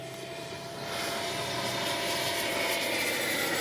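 An FMS 80mm F-86 RC jet spools up, its steady broadband roar stepping louder after the first second and then holding a sustained, even whine with no talk.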